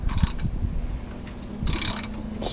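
A wrench ratchets on car bolts, a run of small rapid clicks and mechanical ticks close by, with brief bursts of brighter clatter partway through and no talk.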